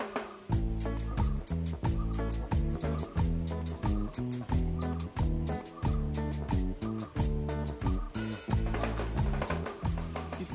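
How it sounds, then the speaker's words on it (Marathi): Birds call repeatedly in lush green riverside countryside, a busy, rhythmic chorus of loud, close gobbling-like calls carrying on steadily with no speech. "पक्ष्यांचे आवाज."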